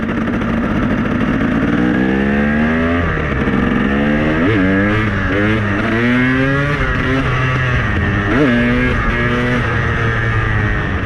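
A KTM 300 motorcycle engine revs hard and close, climbing and falling in repeated throttle blips over a steady loud idle, with no voices.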